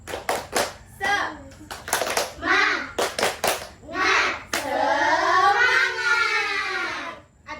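A teacher leads the Indonesian clapping chant tepuk semangat in a classroom, with sharp rhythmic hand claps in short bursts alternating with sung chanted phrases and a long drawn-out call at the end.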